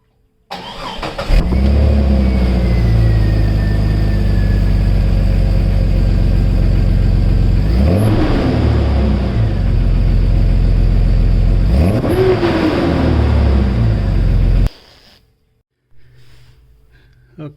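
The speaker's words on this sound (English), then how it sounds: "right now I'm going to do a cold start to see what the exhaust sounds like" Jeep Cherokee XJ cold-starts through a new Walker Quiet-Flow stainless muffler and catalytic converter: the starter cranks, the engine catches and settles into a loud steady idle, with two brief revs before it shuts off near the end.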